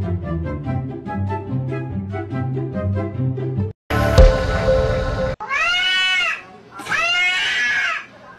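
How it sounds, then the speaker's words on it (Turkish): A cat with its head in a toilet lets out two long, wavering yowls that rise and fall. They follow a stretch of music and a short burst of harsh noise. "Bir kedi kafasını tuvalete sokup bağırıyor"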